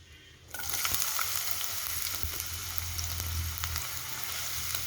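Sliced onion drops into hot coconut oil and starts frying with a sudden loud, steady sizzle that crackles on close by.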